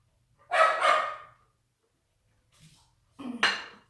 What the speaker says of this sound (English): And then I'm just going to whisk the seasonings in to the flour.